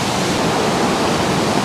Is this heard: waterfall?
yes